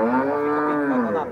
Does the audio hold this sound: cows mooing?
yes